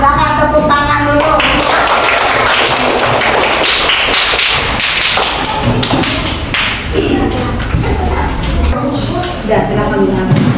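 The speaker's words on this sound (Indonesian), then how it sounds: "Silakan tepuk tangan dulu." A classroom of pupils clapping together, steady loud applause with sharp overlapping hand claps and some thumps and shuffling, with voices mixed in throughout.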